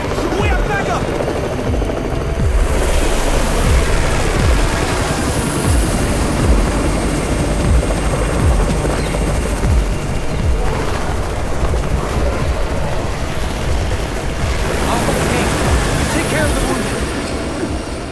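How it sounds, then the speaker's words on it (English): A helicopter arrives in the zombie video game Undawn, its loud steady rotor roar filling the scene throughout, with a continuous rumbling wash and no clear speech over it. "It's the Raven's chopper! We have backup!"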